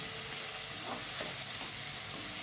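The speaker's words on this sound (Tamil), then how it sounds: "தக்காளியை நல்லா வதக்கி விட்டுக்கலாம். தக்காளி நல்லா வதங்கி அதில் உள்ள எண்ணெய் பிரிஞ்சு வரும், அது வரை வதக்கி விடலாம்" Tomatoes and slit green chillies sauté in oil in a pan for a poori-and-rajma gravy, giving a steady close sizzle with a few soft stirring scrapes and no voices.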